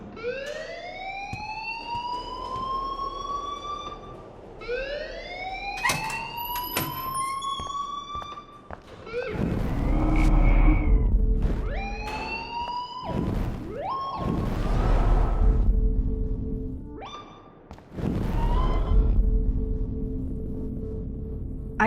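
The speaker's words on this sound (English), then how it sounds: "please turn off that alarm since that's your job" An alarm in Life Is Strange blares loudly and continuously, with rising siren-like sweeps followed by harsh repeated electronic buzzer tones.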